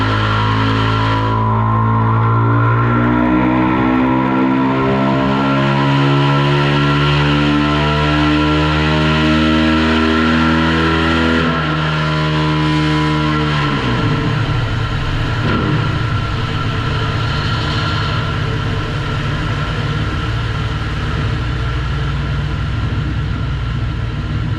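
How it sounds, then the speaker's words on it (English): A 2024 Kawasaki KX450 dirt bike engine running on a dyno with a stock ECU, revving in a loud rising wail as the pitch sweeps up through the gears, then dropping back to a rough, rumbling idle. "So let's make the first run with just a stock ECU."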